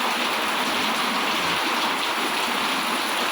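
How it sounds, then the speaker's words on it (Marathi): Very heavy rain pours down during a downpour that floods into a house, a loud, dense, unbroken roaring hiss close by with no talk. "आमच्याकडं खूप मोठा असं पाऊस चालू आहे बघा."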